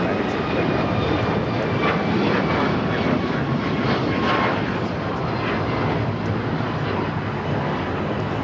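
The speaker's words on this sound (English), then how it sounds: "That is the Alaska flight heading to Chicago O'Hare." Alaska Airlines jet airliner bound for Chicago O'Hare at LAX, a steady, loud broadband engine roar that holds throughout without fading, close by.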